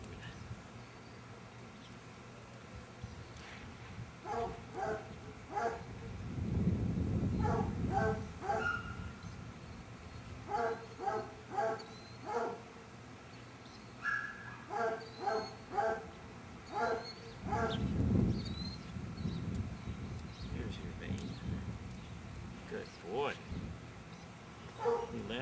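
A chocolate Labrador at a veterinary exam whimpers and yips in repeated bursts of high, whiny cries, close and moderately loud, with low handling noise and muffled rumbles in between.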